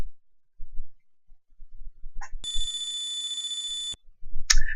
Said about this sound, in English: Never liked the noise the text makes in this little cutscene.